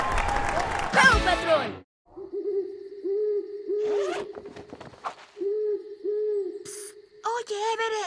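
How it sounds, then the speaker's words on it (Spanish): Repeated owl hoots from a cartoon scene at a hotel, a series of mid-pitched calls recurring over several seconds after a short burst of voices and rustling, with brief chatter near the end. "Fue solo un búho ululando."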